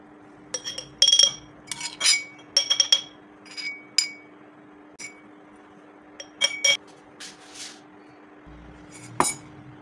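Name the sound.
desi garlic being crushed with a pestle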